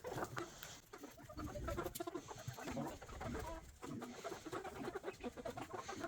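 Chickens cluck and shuffle inside a coop, a busy, close cluster of short clucks and scratchy patter running continuously with no one speaking.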